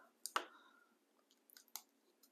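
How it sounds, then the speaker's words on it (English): Small, crisp scissor snips cutting into a paper model of the National Mall, a few quick cuts near the start and a short cluster later, close and quiet with no talking. "So I'm just doing all of these very little cuts,"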